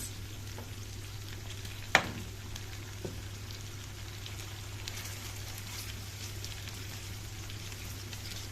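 Chicken liver and gizzards sauté with garlic in a pan, giving a quiet, steady sizzle with a soft, even crackle throughout. A single sharp click stands out partway through.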